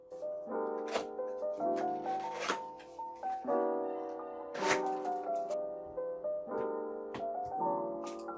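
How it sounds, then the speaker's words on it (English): Unboxing a BlitzWolf BW-KB0 60% hotswap wireless mechanical keyboard: close, intermittent rustles, scrapes and sharp taps of packaging and box parts being handled, irregular and fairly quiet, with no speech. "Now let's unbox this keyboard."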